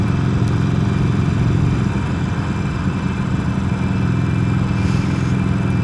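A motorcycle rides along with a steady, continuous engine drone and wind rumble, loud and close throughout with no pauses.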